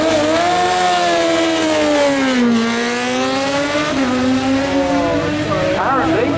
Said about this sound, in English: Ben Marsden, Kawasaki ZX-10R